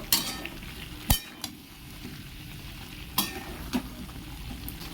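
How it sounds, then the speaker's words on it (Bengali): Boiled, squeezed soybeans are gently stirred into a papaya curry, a low simmering sizzle with a few sharp spatula clinks against the pot. "এটাও মিশিয়ে নেবো হালকা হাতে মিশিয়ে নেব"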